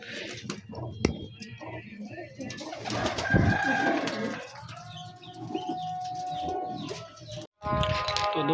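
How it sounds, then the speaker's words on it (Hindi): Breeder pigeons on a rooftop give soft, low cooing calls mixed with other bird sounds, while someone talks intermittently over them. "ये यहाँ पर ब्रीडर कबूतर हैं"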